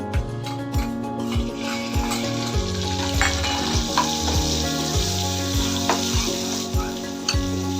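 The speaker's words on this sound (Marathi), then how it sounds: "थोडं परतवून घेऊया कांदा टोमॅटो" Chopped onion and tomato with garlic, ginger and whole spices sizzle steadily in a hot pan, with a regular scraping stir of a spatula every half second or so, close and continuous.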